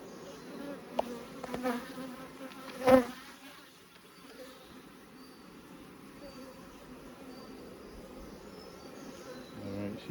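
Honey bees hum at a hive during removal of mite strips, a continuous close buzzing that swells briefly near the start, with a faint voice and small handling clicks.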